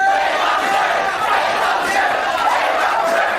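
A studio audience on a raucous daytime talk show shouts and chants together, a loud continuous crowd roar filling the whole stretch.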